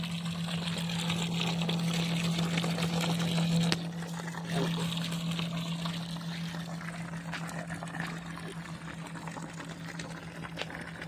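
A battery-powered 500 pressure pump runs at a farm, holding a steady mechanical hum while water pours and trickles continuously at close range, with a brief dip partway through.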